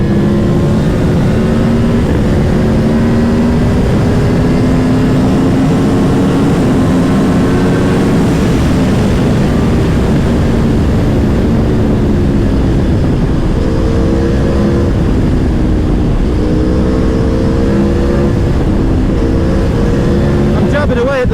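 Motorcycle engine revving loudly through a ride on the Isle of Man, with harmonic tones rising and falling as the throttle is jabbed repeatedly, steady and close throughout over wind roar.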